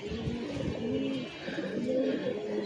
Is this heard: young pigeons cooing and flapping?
yes